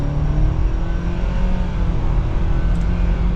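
A 2024 Nissan Sentra SV economy sedan pulls away from a stop, its engine a steady, moderately loud drone with tyre and road noise inside the cabin and no talking.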